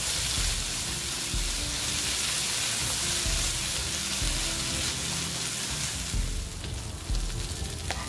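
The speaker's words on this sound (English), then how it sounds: "Add 1 level tablespoon of chili powder and continue to fry for another minute." Chili powder fries in a pan over a medium flame for spicy tuna fried rice, a loud, steady, close sizzle that hisses without a break throughout.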